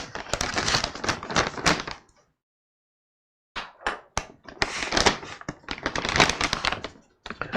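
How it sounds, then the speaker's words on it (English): Plastic packaging of WisePies uncured pepperoni mega bites frozen pizza bites is torn open in close, crinkly bursts: a rustling rip, a brief pause, then more sharp crackling and tearing. "Let's tear this open."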